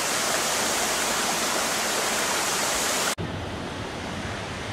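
Water rushing steadily along a rocky river bed in dense Indonesian jungle near Bukit Lawang, a loud continuous broadband roar that drops abruptly in level about three seconds in, then carries on softer.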